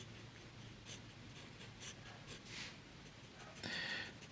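A TWSBI Eco fountain pen nib scratching across paper, soft repeated strokes in a quiet room with a brighter scrape near the end, close and faint.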